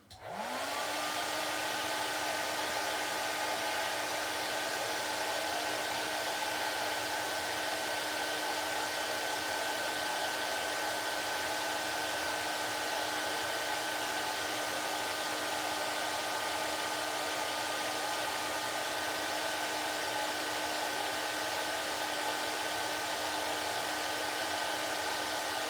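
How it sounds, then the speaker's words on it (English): A blow dryer runs steadily on a 1:18 scale model part, a constant loud whooshing drone with a faint whine, starting up at the outset and continuing uninterrupted. "So more blow drying."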